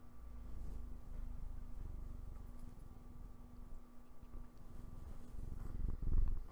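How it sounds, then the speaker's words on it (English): A cat purrs softly up close in an indoor setting, a low continuous rumbling that carries on steadily, with a slight rustle near the end. "Can you guys hear him purring?"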